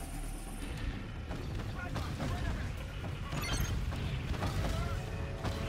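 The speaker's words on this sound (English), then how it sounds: "AA guns are engaging jackals. Jackals are taking heavy AA fire." Anti-aircraft guns hammer away in a Call of Duty: Infinite Warfare battle on Mars, a dense, continuous roar of gunfire and booms layered with mechanical clatter, with voices talking over the din.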